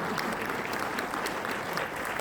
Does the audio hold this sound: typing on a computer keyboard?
no